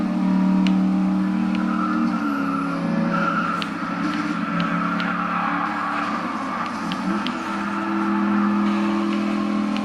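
Race cars in Burnout Paradise on Xbox 360 roar steadily with a continuous loud engine drone, tire screeches and passing whooshes layered through the whole stretch.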